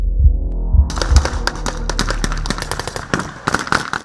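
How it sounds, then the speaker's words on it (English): Rapid bursts of gunfire from a British army training operation in Kenya crack and pop in irregular volleys, some shots heavy and booming, others quick and sharp, continuing throughout. "gunfire signals the start of a joint military operation"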